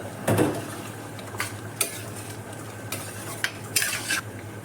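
Mutton stew with carrots and potatoes in a pot, stirred with a spoon: scattered scrapes and light clinks against the pot over a faint simmering hiss, close and quiet.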